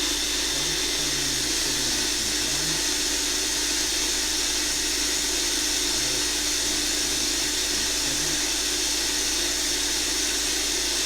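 A slot car motor runs continuously on an RPM test bench, producing a steady, high-pitched whine and hiss that holds at an even level throughout with no voices.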